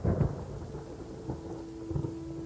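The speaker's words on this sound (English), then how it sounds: "Paimon hears thunder!" Thunder in the video game Genshin Impact: a low, distant rumble with rain-like hiss and a faint steady tone, quiet and alone without speech.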